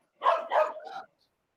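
A single dog barks at a mail carrier arriving, three quick loud close barks in a short burst followed by silence.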